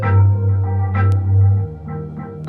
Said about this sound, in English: if I add that with the low synth, the high lead, and the pluck, it sounds like this.